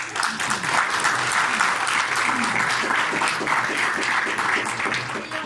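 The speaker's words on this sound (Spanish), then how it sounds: "Un aplauso para ellos." Steady audience applause at a university conference after a talk, dense and sustained clapping from a sizable room with a faint murmur underneath, holding at an even level throughout.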